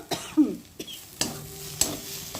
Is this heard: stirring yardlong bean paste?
yes